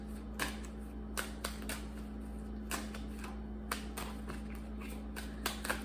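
Tarot cards being shuffled, heard as quick crisp riffling bursts that recur every second or so over a steady low hum, close and fairly quiet, with no talking.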